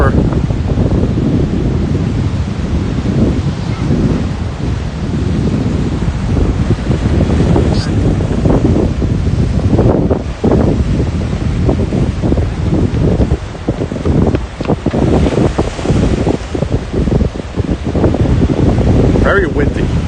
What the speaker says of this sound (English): Very windy, and I don't know if these I can hear the wind pretty strong on my wife's phone.